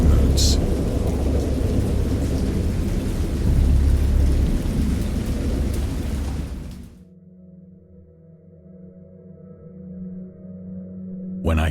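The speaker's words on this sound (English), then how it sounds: "I heard pearls of thunder and other tones which nature utters only in her wildest moods." A great storm with heavy rolling thunder and pouring rain, a dense, loud rumbling roar that cuts off abruptly midway into near silence with only a faint low hum, then a brief burst returns at the end.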